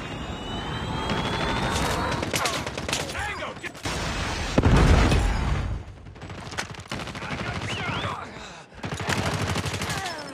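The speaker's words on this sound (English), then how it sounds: "Friendly predator missile inbound." Game combat in Call of Duty Mobile during a 10v10 match, with a predator missile strike: loud bursts of rapid gunfire and a heavy explosion mid-clip, surrounded by crackling shots and aircraft-like whooshes, dense and close throughout.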